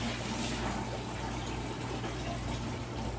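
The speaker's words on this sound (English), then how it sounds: "dump out this water in here" Water poured out of a bucket into a new aquarium, a continuous steady gushing splash with a low hum beneath, no voices.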